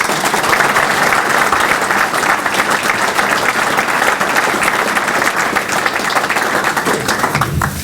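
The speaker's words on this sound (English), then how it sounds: "a round of applause for those who have passed away" Sustained, dense applause fills a rugby league dinner hall at St Helens RFC, many hands clapping loudly and evenly for several seconds without speech.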